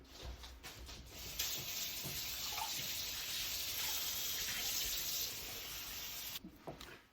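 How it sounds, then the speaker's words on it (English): Running tap water pours over fresh blueberries being rinsed, a steady close gushing hiss with soft splashes and clicks at the start and end, no talking. "just before I measure out my blueberries, I'm actually just going to wash them first"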